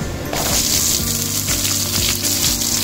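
Chopped onions drop into hot oil with fried dried chillies for chicken uppukari, giving a loud, continuous sizzle. Music with a steady beat plays beneath it.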